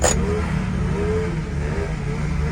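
Steady low engine drone and road rumble from inside a Honda Civic crawling through heavy traffic, continuous and fairly loud with no clear passing cars standing out.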